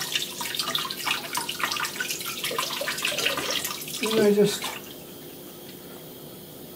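Water runs and splashes over small queen cell cups as soap is rinsed out of them in a beekeeping setup, a steady faucet-like stream that cuts off near the end, with someone talking over it.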